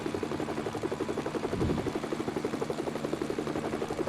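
A news helicopter in Lego Batman 2: DC Super Heroes gives a steady, close rotor thump with a whining engine drone, with a single stronger swell midway.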